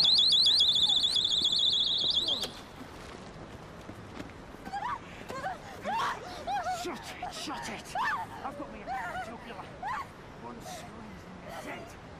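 A personal rape alarm shrieks with a loud, piercing, warbling tone for about two seconds, then cuts off, leaving a busy street scene with voices talking.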